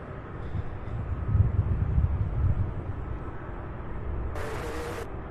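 An airplane taxis at Louisville International Airport, heard as a steady, fairly distant low rumble that swells slightly midway and holds on without any voices.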